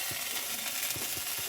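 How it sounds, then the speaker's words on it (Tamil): Potatoes hit hot oil in a pan for tempering, giving a steady broadband sizzle with faint ticking and scraping bits through it, fairly close and continuous, with no voices. "இப்போ வாங்க உருளைக்கிழங்கு தாளித்து விட்டுலாம்."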